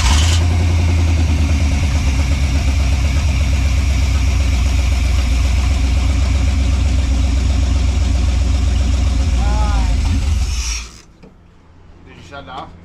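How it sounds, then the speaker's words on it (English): A vehicle engine runs loud and steady at idle with a heavy low rumble and rattling mechanical texture, then cuts off abruptly near the end, leaving near silence with faint movement sounds. "Crank it. Start her up."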